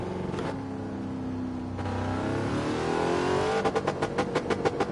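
A car engine revs up toward its redline at 6,000 RPM, rising steadily in pitch over several seconds before breaking into rapid pulsing bursts near the end, loud and close with no talking.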